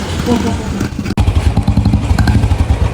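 A motorcycle engine runs close by with a steady, throbbing idle that keeps going after a brief cutout, with some clatter alongside.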